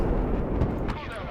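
A deep, rumbling artillery barrage in the real-time strategy game Broken Arrow, a sustained low roar with muffled booms over about a second and a half.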